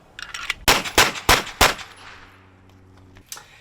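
Handgun shots fired in quick succession, several loud sharp cracks close together with ringing echoes, a few quieter pops before them and another shot near the end.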